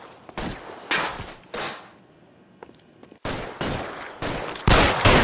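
Gunfire in L.A. Noire, a 1940s-style shootout: loud, close bursts of shots in irregular clusters, separated by short quiet gaps, growing denser toward the end.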